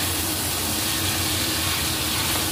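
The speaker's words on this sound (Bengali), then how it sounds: "তেল দিয়ে চিকেনগুলো ভালো করে ভেজে নেব।" Chicken pieces frying in oil in a wok over a high flame, giving a steady, dense sizzling hiss that stays even and loud throughout with no talk.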